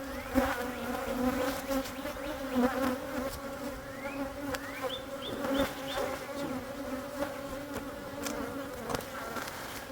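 Honeybees buzzing steadily and densely at close range during a hive inspection around a temporary cardboard hive, a continuous droning hum with a few higher passing buzzes.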